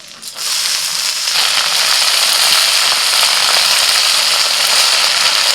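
Amaranth greens (note shak) hit hot mustard oil with chopped onion and green chili, setting off a loud, dense sizzle after a brief quiet start that then holds steady and close throughout.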